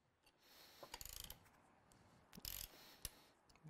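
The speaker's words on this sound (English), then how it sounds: "You can hear the ratcheting." A Festool OF 2200 router ratchets as its cutter is removed, giving a few quiet clusters of quick mechanical clicks and ticks that sit close and faint against a low background.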